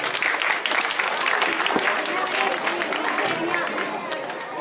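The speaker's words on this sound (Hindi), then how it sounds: "जोरदार तालियों से स्वागत करें, तो तालियां बजती रहनी चाहिए।" A crowd at a Hanuman Chalisa Pariwar evening in Pathankot claps in a dense, steady wave of applause that holds nearly level throughout and tapers slightly at the end, with voices mixed in.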